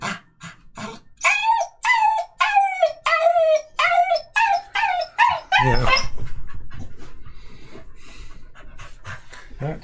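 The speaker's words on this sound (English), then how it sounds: "You're a good dog." A pet dog named Zachy lets out a run of rising, wavering howls, close and loud, then breaks into quick rhythmic panting that slowly fades, with a person's voice briefly heard.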